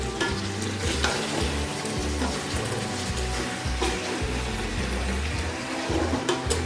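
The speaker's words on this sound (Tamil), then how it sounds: "மறுபடியும் லைட்டாக இந்த பீஸ் உடஞ்சி போயிடாமல் ஒரு கிண்டு கிண்டிக்கலாம்" Pieces of chicken for Arabic chicken mandi biryani are gently turned in a wide pan. A continuous close sizzle runs under repeated soft scraping and stirring knocks, with no talk.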